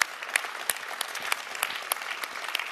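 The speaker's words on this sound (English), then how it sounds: "Big applause." Audience applause after a speech at a summit: a sustained wash of clapping from a moderately sized crowd, with individual sharp claps standing out, steady and fairly close throughout.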